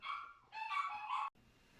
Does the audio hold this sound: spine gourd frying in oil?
no